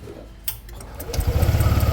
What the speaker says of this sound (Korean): 엔진 시동 한번 걸어주시겠어요?